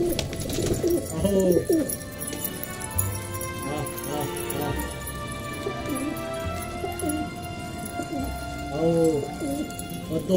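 Several pigeons coo in low, throaty bursts nearby, repeating every few seconds over a soft background with some rustling.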